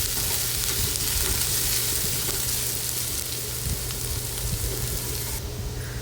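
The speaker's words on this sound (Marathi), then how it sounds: "तर मस्त आपला कांदा आता भाजून झालेला आहे" Chopped onions sizzle steadily in a hot pan as they brown for egg bhurji, a loud continuous frying hiss with occasional scrapes of stirring and no voices.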